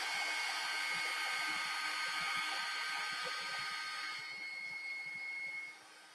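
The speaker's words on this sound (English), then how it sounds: "Start drying a bit more." A hair dryer blows steadily on an up-cycled dream catcher, a loud, continuous broadband whoosh that holds for several seconds, then drops slightly in level and fades near the end.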